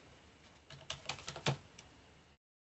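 Quick burst of typing on a computer keyboard, about half a dozen soft, close key clicks over roughly a second, then stillness.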